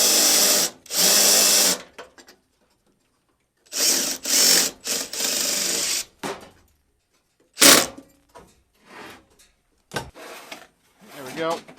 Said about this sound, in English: There's my drill and a self-tapper.